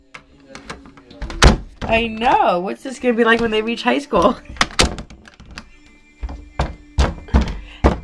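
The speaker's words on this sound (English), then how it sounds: "he's slamming the door" A child's bedroom door is slammed repeatedly, with sharp, loud thuds scattered throughout while someone talks between and over the bangs.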